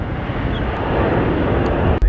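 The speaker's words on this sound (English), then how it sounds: "Can you hear a plane taking off?" Airplane near an airport, taking off or coming in to land, a loud steady broadband engine roar that swells slightly, then cuts off abruptly near the end.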